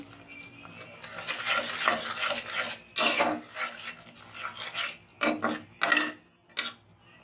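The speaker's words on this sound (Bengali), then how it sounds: "মশলাটা এখন ভালো করে কষিয়ে নিব" Spice masala being fried and stirred in a pan, heard as a series of close rasping scrapes of the spoon in uneven bursts with short pauses between them.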